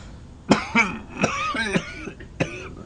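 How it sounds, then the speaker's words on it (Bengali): A person coughs several times in quick, harsh bursts, close by, with brief pauses between the coughs. "তাইলে তো কাশিটা একটু কমে।"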